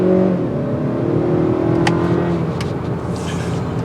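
A 2022 Honda Accord Sport 2.0t in sport mode pulls away hard from a stop on a road, its engine note rising steadily and loudly from inside the cabin, with a rushing whir building as it gains speed.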